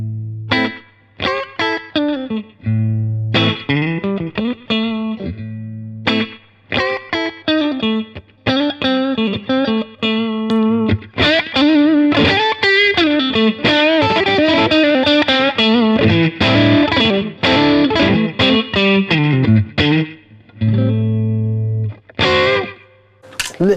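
An electric guitar runs through a Mako D1 delay pedal on a slapback preset, playing distorted riffs and chords with short, quick echoes trailing each note, loud and close with brief gaps between phrases.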